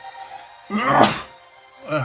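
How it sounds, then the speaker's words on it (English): A single sharp human sneeze bursts out loudly after a quiet moment, followed by a short vocal sound. "Oh, I gotta sneeze."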